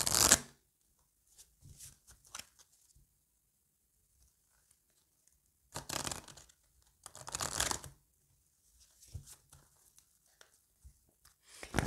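Oracle cards are shuffled for a love reading, heard as quiet, papery riffling and crinkling in a few separate bursts with near-silent gaps between them.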